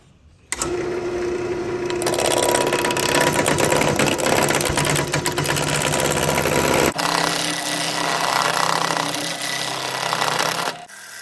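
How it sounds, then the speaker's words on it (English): A wood lathe spins a six-inch piece of cherry while a roughing gouge rounds it, making a loud, continuous motor hum with rough scraping and chattering from the cut that starts abruptly and runs steadily before cutting off at the end. "I'm just using a rough and gouge, and we're just roughing it round."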